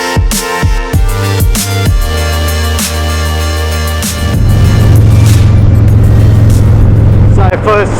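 A Harley-Davidson CVO Street Glide motorcycle shifts through a few rhythmic revs, then settles into a steady loud engine drone with rushing wind as it gets under way.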